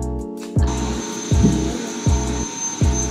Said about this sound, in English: I am done hoovering the living room